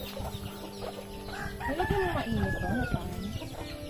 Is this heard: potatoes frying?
no